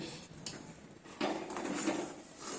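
A spoon scrapes and stirs chana dal halwa with ghee in a pan, giving intermittent soft scraping and clinking strokes, close and fairly quiet, with a louder stretch of rubbing near the end.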